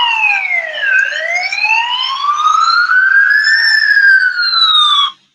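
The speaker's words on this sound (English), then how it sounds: "This is the ambulance." A loud wailing siren sweeps down, then rises slowly and falls again, sounding close and alone before cutting off abruptly.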